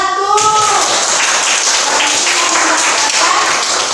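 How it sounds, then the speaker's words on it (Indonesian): Applause from a classroom of participants for a student discussion group, a loud, continuous wash of clapping that starts just after a brief voice and stays steady throughout. "tepuk tangan dulu untuk kelompok 1"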